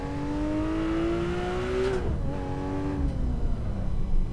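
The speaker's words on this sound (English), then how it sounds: "This is mostly a second gear cruise here in this 911R." A Porsche 911R engine held in second gear in Assetto Corsa, droning steadily and rising in pitch. It dips briefly as the revs fall, then picks up again, heard alone and close.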